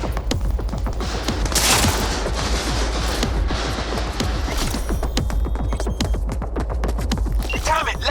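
Rapid, dense gunfire from a firefight in Cyberpunk 2077 on PC, with steady bursts of shots rattling continuously at moderate volume over a low rumbling background.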